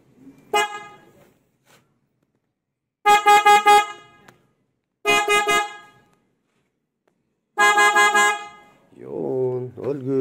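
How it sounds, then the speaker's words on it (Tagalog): A PIAA horn on a Kawasaki Z1000 R motorcycle beeps in short bursts, several quick toots in repeated groups separated by pauses, loud and close, with a voice starting at the end. "Then, testing natin sa busina."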